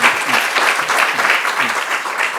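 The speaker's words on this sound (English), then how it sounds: "If we could give our panelists one more hand of applause." An audience at a law school library book talk applauds its panel: dense, close, steady clapping that carries through the whole moment without pause.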